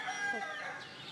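A rooster crows faintly with a short rising call, and a hen clucks softly in the background.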